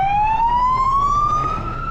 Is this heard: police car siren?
yes